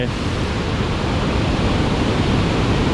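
Tad Sae waterfall near Luang Prabang gives a steady, loud, broadband roar of falling water heard up close, unbroken throughout.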